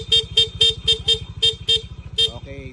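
A thin, buzzy stock horn on a Yamaha NMAX V2 scooter beeps about eight times in quick bursts over a chugging idling engine, then a different horn tone briefly sounds.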